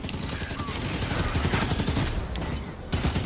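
Dense sustained gunfire in the video game Halo 5, rapid overlapping shots and bursts filling the scene at steady high loudness for a few seconds.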